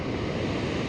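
Steady rushing of the Feather River's North Fork below Poe Powerhouse, a dense, continuous roar of moving water heard up close and fairly loud, with no voices over it.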